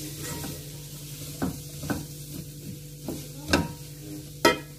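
Spice masala with black pepper powder being stirred and roasted in a pan on a stove: a steady sizzle with repeated scraping strokes of a spoon, growing louder toward the end.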